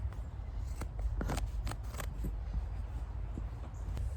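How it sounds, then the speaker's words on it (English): Scissors snip through excess upholstery fabric on a barstool being recovered, a series of sharp, close cuts spaced irregularly over a steady low background hum. "all we're gonna do is cut the excess fabric, just so it's not floppy and hanging"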